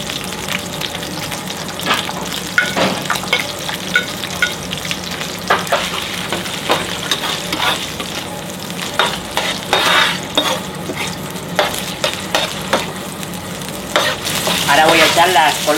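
Cuttlefish frying in oil with sofrito, already flavored by prawns, sizzles steadily while a utensil stirs and scrapes the pan in irregular strokes, close and fairly loud, with no voices.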